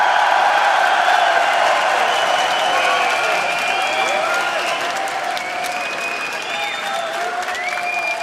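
A large esports arena crowd at a League of Legends championship broadcast applauds and cheers loudly and steadily, with whoops and whistles rising over the dense clapping throughout.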